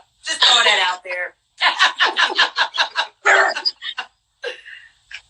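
A person imitates a dog barking, giving a rapid string of short voiced yaps and barks with laughter mixed in, close and loud.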